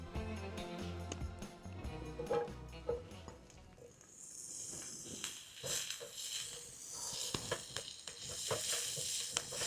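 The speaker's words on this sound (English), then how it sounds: "We are gonna get our onions cooked." Onions fry in a carbon steel pan on a GasOne 15K BTU dual-fuel camp stove, a soft hiss and sizzle with intermittent scraping and stirring clatters, fairly quiet and close.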